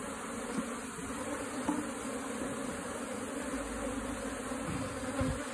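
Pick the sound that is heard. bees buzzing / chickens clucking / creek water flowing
bees buzzing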